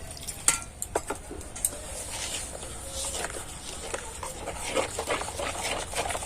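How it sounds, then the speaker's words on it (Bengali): A rice flour batter is whisked with small additions of water for thin rice-flour crepes (pitha), with quick clinking and scraping strokes against a bowl and light splashes, fairly close and irregular. "অল্প অল্প জল দিয়ে নেব আর ব্যাটারটাকে গুলতে থাকবো।"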